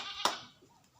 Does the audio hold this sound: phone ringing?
no